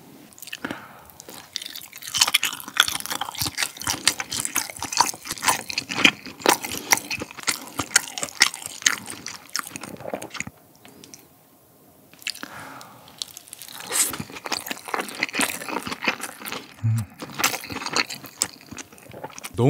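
Close, wet chewing of chewy glutinous-rice Korean blood sausage (chapssundae) served with spicy sundae gukbap, steady squishy bites and mastication running continuously with a brief pause midway, no talking.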